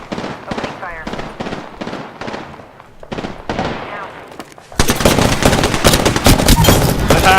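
Rapid bursts of automatic gunfire in the Apex Legends video game, loud and crackling, building into a dense sustained barrage in the second half, with game voices talking underneath.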